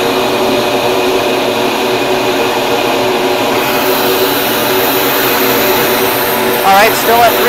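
A flow bench pulls air through an engine intake at 300 CFM with the filter removed, giving a loud, steady vacuum-like roar with a constant whine that holds throughout, briefly wavering near the end as a voice talks over it.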